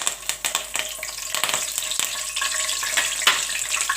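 Curry leaves hitting hot oil already tempered with red chilies and fenugreek seeds for a fish curry, giving a bright, crackling sizzle with sharp pops, close and continuous, without speech.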